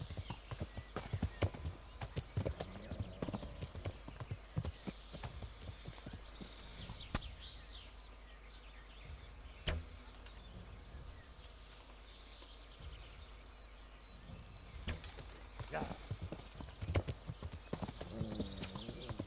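Horse hooves clip-clop steadily in the medieval video game Kingdom Come: Deliverance, a quiet, rhythmic walking gait with faint outdoor ambience and occasional sharper hoof strikes throughout.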